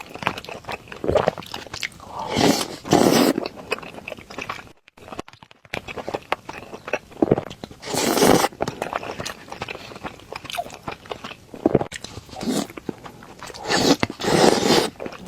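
Close chewing and biting of tomato rice with egg, repeated crunchy, wet mouthfuls coming in irregular bursts with brief quiet pauses between bites.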